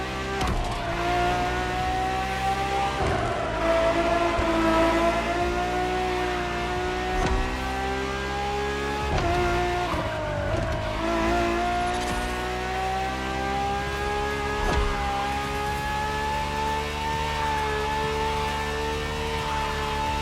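A naturally aspirated Ferrari V12 hybrid engine roars continuously in The Crew Motorfest, loud and close, its pitch climbing through repeated gear shifts with brief dips between, with no talk.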